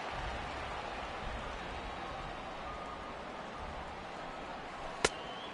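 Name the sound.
heavy rain in baseball video game MLB The Show 18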